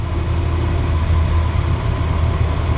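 A GAZelle van's 2.5-litre 402 engine fitted with a Solex carburetor runs steadily at slightly raised revs, a loud, continuous low rumble with no speech.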